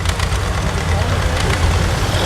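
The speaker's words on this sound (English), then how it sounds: "There goes a garden tractor. He's got the plow on it with the scooters." A garden tractor fitted with a plow and a gutted muffler drives past at Hamby Farm in Jersey, Georgia, its engine a steady, loud, raspy drone with a deep low throb and no break.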